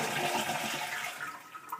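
A toilet tank is flushed to drain it before a fill valve replacement, giving a loud, continuous rush of swirling water close by that runs the whole time without talk.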